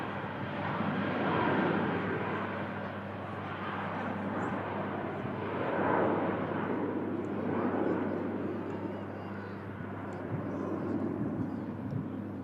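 A British Airways shuttle jet departing on its flight down to Heathrow, a broad steady roar that swells and fades slightly over the span while a voice talks on top.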